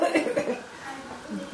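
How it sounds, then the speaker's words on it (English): A child coughs a few times indoors at a family bedtime, short close-up hacking bursts mixed with murmured talk and a bit of laughter. "A cough."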